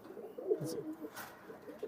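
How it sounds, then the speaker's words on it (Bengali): Golden pigeons in a loft give soft, brief coos, a few low murmuring calls close by but faint overall. "এটা হচ্ছে আপনার গোল্ডেন কবুতর গোল্ডেন"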